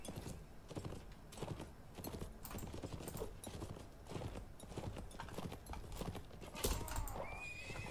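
Rhythmic clip-clop of galloping horse hooves in the video game Mount and Blade, quiet and continuous, with a horse whinnying near the end over faint game sounds.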